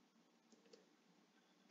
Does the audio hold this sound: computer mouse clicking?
yes